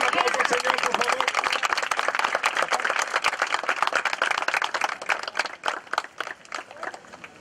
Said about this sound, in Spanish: Démosle un aplauso al Señor, por favor.